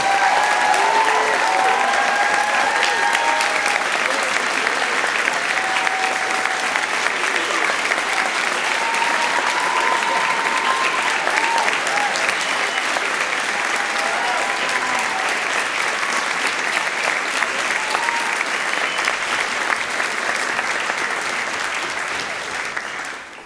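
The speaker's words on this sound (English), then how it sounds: "Let's give them a big round of applause for all the work that they've done." Sustained audience applause at a school winter fine arts night, loud and dense, holding steady for over twenty seconds before tapering off at the very end.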